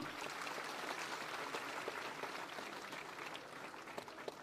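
Loud applause from the audience at a civic reception ceremony honouring President Ram Nath Kovind in Lucknow, Uttar Pradesh, heard as a steady, dense patter of many hands, somewhat distant and uninterrupted throughout.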